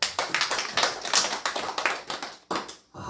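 A church congregation claps together in a dense, rapid patter of many hands, fairly close and continuous, fading briefly before the end.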